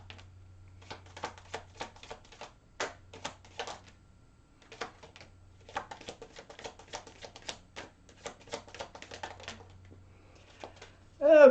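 Tarot cards being shuffled and drawn in a quiet room, producing rapid, close riffling flicks and soft slaps in uneven bursts over a faint low hum, ending with a brief louder sound.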